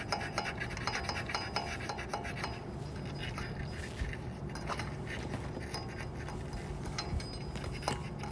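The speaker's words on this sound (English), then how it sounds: "I try to clean a little bit on the rotor." Steady rubbing and rasping as a front brake rotor is scrubbed clean on a 2006 Toyota Highlander Hybrid, continuous close strokes with occasional light metallic clinks, no talking.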